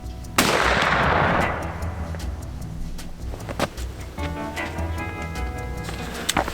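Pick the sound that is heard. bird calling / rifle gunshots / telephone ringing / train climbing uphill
rifle gunshots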